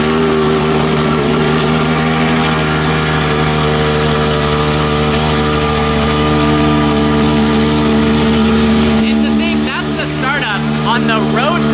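A sports car engine idles loudly and steadily at Monterey Car Week, a continuous mid-pitched drone with rumbling harmonics that continues throughout, with a brief shift near the end as voices and other noise rise briefly over it.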